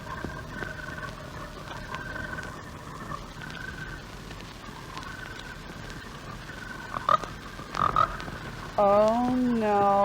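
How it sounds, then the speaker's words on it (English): A frog croaks by a pond, with a few short rising calls near the end breaking through a steady outdoor background hum. "And that sounds like a frog."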